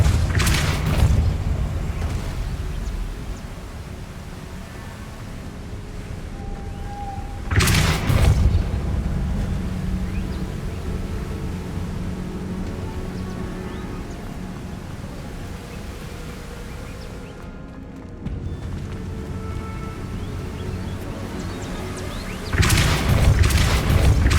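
Depulso spell blasts in the Hogwarts Legacy video game, several loud booming bursts spaced apart over a continuous buzzing, humming game ambience.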